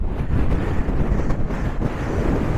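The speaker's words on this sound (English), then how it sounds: "It's really windy here" Strong coastal wind on the Essex shore near Walton-on-the-Naze buffets the microphone in a loud, continuous low rumble with gusty fluctuations throughout, and no voices come through.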